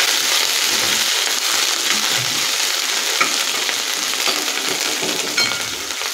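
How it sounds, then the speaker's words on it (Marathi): Chopped coriander sautéing in hot oil with ginger-garlic paste gives a continuous, loud, bright sizzle and crackle, with faint stirring scrapes and no voices. "इथे मी बारीक चिरलेली कोथिंबीर घेतलेली आहे, तीही याच्यामध्ये थोडीशी परतून घेते।"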